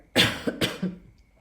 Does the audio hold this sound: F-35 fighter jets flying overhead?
no